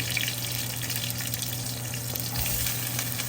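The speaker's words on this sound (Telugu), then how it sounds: "ఫ్రైయింగ్ ప్యాన్ తీసుకొని అందులో కొద్దిగా ఆయిల్ వేసి వేడెక్కిన తర్వాత ఆవాలు జీలకర్ర కొన్ని వేసుకున్నాను తర్వాత పచ్చిమిరపకాయలు కట్ చేసిన చిన్నగా కట్ చేసిన వెల్లుల్లి వేసుకుంటున్నాను" Garlic, green chillies, mustard seeds and cumin fry in hot oil in a frying pan, giving a steady, dense, close sizzle and hiss that continues without a break and with no talk.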